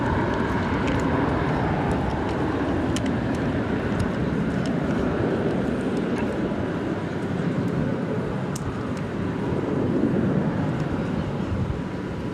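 A Qantas airliner leaves DFW Airport for Melbourne, heard as a continuous broad roar of jet engines at moderate distance, steady throughout with no voices.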